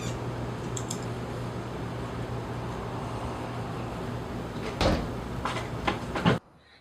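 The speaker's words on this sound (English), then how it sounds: "right at the end you'll hear the attic door bang" An attic door bangs inside a house, a few sharp knocks and rattles near the end over a steady low hum, then everything cuts to silence.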